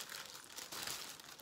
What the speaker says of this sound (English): So I'm gonna use my plastic bag first, and I'm gonna put my hand in it.